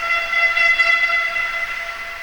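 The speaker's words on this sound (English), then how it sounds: "Or actually did get a whistle." A referee's whistle shrills through an arena during a youth Atom A ice hockey game between the Vaudreuil Titans and Kahnawake, one long, loud, steady blast that tapers slightly at the end.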